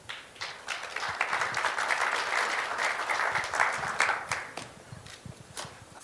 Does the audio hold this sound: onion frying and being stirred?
no